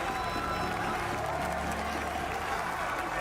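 A large arena crowd at a VALORANT esports event applauds and cheers in a steady, dense roar with a voice talking over it.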